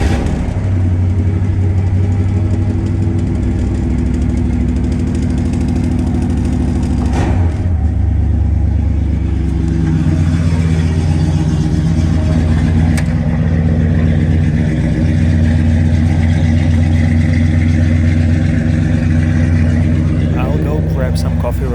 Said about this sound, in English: Key to the ignition. Turn it.